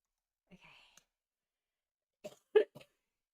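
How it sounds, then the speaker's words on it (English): A few short, soft coughs, spaced apart: a faint one early, then a quick cluster of louder coughs near the end, close to the listener, during a livestream. "sorry guys about all the coughing"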